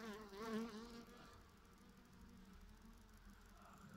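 Honeybees buzzing inside a small colony's hive in October, a close, wavering drone of many wings that swells briefly at first, then settles into a low, continuous hum.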